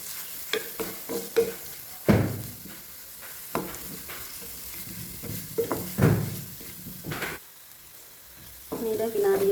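Garlic, ginger and spices sizzle in a pan for a chicken gizzard curry, with steady frying hiss broken by repeated scraping stirs and clinks of a utensil against the pan.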